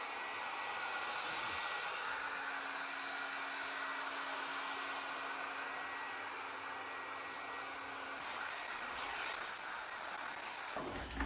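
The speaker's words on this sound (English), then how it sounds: "So we're going to get the heat gun or the hairdryer." A hairdryer drying drywall joint compound between coats on a plasterboard patch repair, a continuous steady airy whir held close throughout, ending with a brief clatter, no talking.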